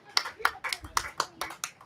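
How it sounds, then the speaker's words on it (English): A small audience claps in quick, uneven bursts for a couple of seconds. The sound is fairly quiet, and voices cheer and call out over the clapping. "Gotta clap till they get up here."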